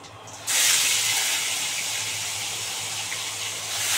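Garlic drops into hot oil already tempered with nigella, radhuni and dried red chilli, bursting into a sudden loud hissing sizzle after a brief quiet moment, then holding steady and close.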